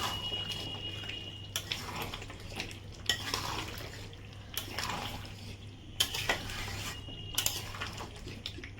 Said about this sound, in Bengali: ভালো করে নেড়ে চেড়ে ঢাকা দেবো আবার।